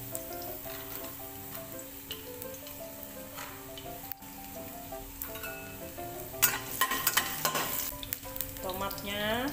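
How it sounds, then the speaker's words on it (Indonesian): Shallots and garlic fry in hot oil with a steady crackling sizzle, joined by clinks of a utensil stirring against the pan, growing busier and louder toward the end. "Bawang merah, bawang putihnya dimasukkan,"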